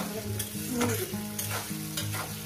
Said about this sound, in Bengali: পেঁয়াজটাকে সুন্দর করে লাল লাল করে ভেজে নেবেন